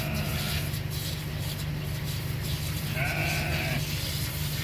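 Sheep bleat once, a wavering nasal call partway through, over a constant low engine-like rumble and background noise.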